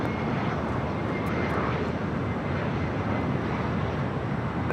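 Jet airliner engines roar steadily at LAX airport, a loud, continuous broadband rumble holding unchanged through the whole stretch, with no voices over it.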